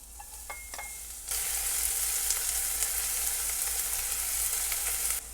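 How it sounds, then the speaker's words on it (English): Oil sizzles steadily and loudly after a quiet start with a few clinks, then spring onion and garlic are added, a bright continuous frying hiss filling the rest of the clip. "Once you start to see that sizzle, we're gonna add in our spring onion and our garlic"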